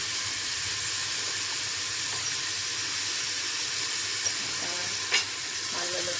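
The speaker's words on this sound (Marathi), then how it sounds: "टमाटर पण थोडंसं घ्यायचं तेलामध्ये, थोडं परतायचं, जास्त नाही" Tomatoes sautéing in hot oil for a mutton curry, a steady close sizzle and crackle throughout with a few faint stirring clinks, no talking.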